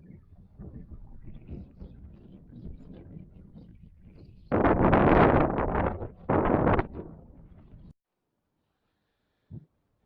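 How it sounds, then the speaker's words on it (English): Strong wind buffets the microphone on an exposed hilltop in Cornwall at sunset, a low rumbling roar that swells into two loud, harsh gusts before cutting to near silence, with a brief thump near the end. "This is us suffering in the wind, and it's going cold."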